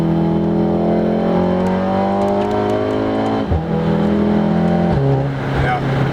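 A Volkswagen Golf R Mk7 engine pulls hard from inside the cabin, its loud steady drone climbing in pitch through the gears with a brief dip at each shift, while someone talks over it.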